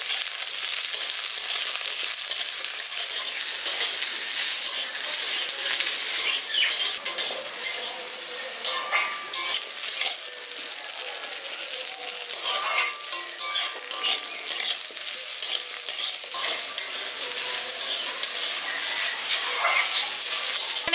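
Cauliflower florets and potatoes frying together in a pan for a village-style winter vegetable dish, a dense continuous sizzle with repeated stirring and scraping of the utensil, close and fairly loud throughout.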